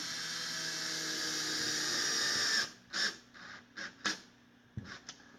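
A cordless power drill whirs steadily as it drives a screw into drywall sheetrock, then gives several short, stuttering bursts as the screw seats, close and with no talking.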